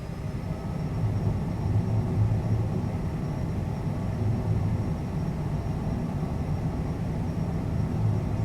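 Twin jet engines of a Cessna Citation CJ4 held at full takeoff power in Microsoft Flight Simulator, a steady deep roar and rumble that holds constant, with a faint high whine above it.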